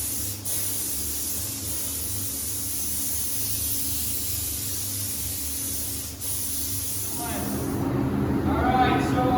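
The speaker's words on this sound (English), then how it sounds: "we'll do a spray out to test the fan before we get started." A steady hiss of an Anest Iwata LPH400 spray gun with LV4 cap at 29 PSI, full fan and full fluid, runs throughout, swelling louder and brighter near the end as the spray opens up close by.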